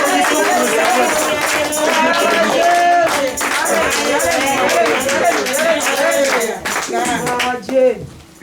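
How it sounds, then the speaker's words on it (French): A church congregation at a Sunday service claps as the pastor walks forward, with steady applause mixed with lively voices and singing or cheering throughout. "Et pendant qu'il avance, nous applaudissons pour le Seigneur."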